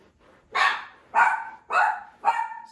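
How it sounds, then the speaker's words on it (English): Four sharp dog barks, loud and close, evenly spaced about half a second apart, with nothing else around them. "Sorry, that's my dog."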